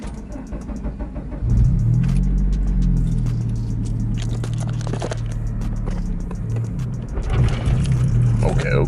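A Honda Civic Si with manual gearbox revving in first gear, the engine drone climbing steadily in pitch and loudness from inside the cabin, with people talking over it.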